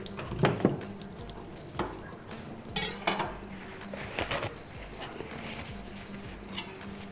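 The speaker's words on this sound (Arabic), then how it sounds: "هغسل بس السكينه احط دي" A knife is washed at a kitchen sink, with running tap water splashing steadily as the blade and dishes clink and knock against each other in a string of close, irregular bursts.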